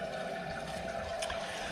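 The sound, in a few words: toilet tank refilling with water after install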